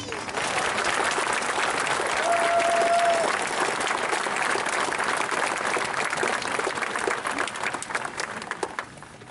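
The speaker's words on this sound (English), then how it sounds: "a great round of applause as we begin the commencement exercise for the class of 2016" Audience applause opening a high school commencement for the class of 2016, a full, sustained roar of many hands clapping in a large venue that eases slightly toward the end, with a brief tone and crowd voices mixed in.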